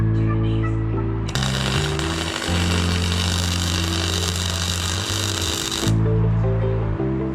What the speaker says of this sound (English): Just gone over it with a flapper disc on the grinder and smoothed off the welds